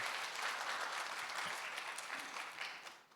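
Steady audience applause fills a hall at a university and young adults' summer camp worship gathering, a dense wash of clapping that holds even and then fades away at the end.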